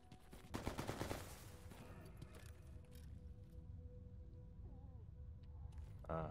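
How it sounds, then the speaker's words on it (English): A quick cluster of gunshots rings out in the video game S.T.A.L.K.E.R. GAMMA, faint and distant, then fades into quiet game ambience with a few scattered softer sounds. "Just hearing a few more gunshots"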